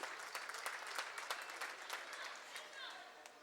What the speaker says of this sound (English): Gets a deserving hand from the crowd.